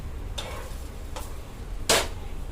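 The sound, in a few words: paratha frying in oil on a pan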